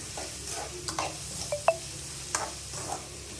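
Tomato and onion sautéing in a pan, a steady soft sizzle broken by several sharp scrapes and clinks of a spoon stirring, close and moderately loud with no talking.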